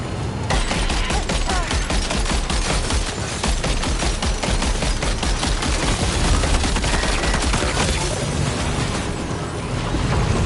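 Dense, sustained gunfire from the video game Death Stranding 2, with rapid automatic bursts and booms layered into a loud, continuous barrage that runs the whole way through without letting up.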